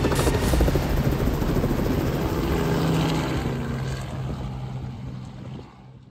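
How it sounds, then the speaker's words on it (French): Engine of a Mauboussin Corsaire 125 light aircraft in flight, a steady loud propeller drone filling the whole clip and easing slightly toward the end, with no voices. "Et grâce à Robert et Thomas, aujourd'hui, j'ai fait du Mauboussin Corsair 125. Ce magnifique avion qui est derrière nous"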